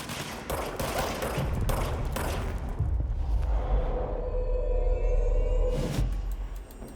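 Enemy rifles fire in the video game Control as a dense fusillade of separate shots over low rumbling, loud and continuous for several seconds, easing into a rumble before a final burst near the end, with no talking.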